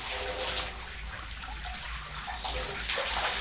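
Water flowing into an old tunnel sump near a bunker drain pipe, a steady broadband rush and trickle that swells slightly louder toward the end, heard close with no talk.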